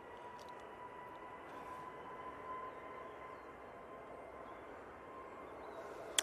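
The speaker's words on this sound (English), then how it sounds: "A321neo on the roll." An Airbus A321neo on its takeoff roll at Manchester Airport, a quiet, distant, steady engine roar and rumble that holds evenly throughout with a few faint clicks.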